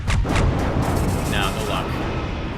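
A loud, dense barrage of booming blasts and rumbling fire fills a Fleck Barrage attack in the space strategy game Halcyon 6, steady and heavy throughout.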